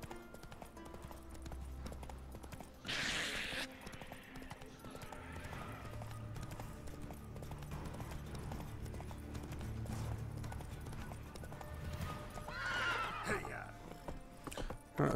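Roach, the horse in The Witcher 3: Wild Hunt, gallops with fast, rhythmic hoofbeats and gives two sharp neighs, one early and one late, under faint game ambience and a player's voice.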